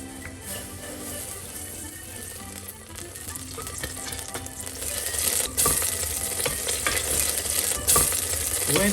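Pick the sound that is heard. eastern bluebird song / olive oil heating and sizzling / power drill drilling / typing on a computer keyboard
olive oil heating and sizzling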